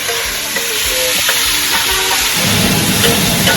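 Pav bhaji and pulao sizzle loudly on a hot street-stall griddle while a spatula stirs and scrapes the food, producing a dense, continuous frying hiss with irregular clanks and no speech.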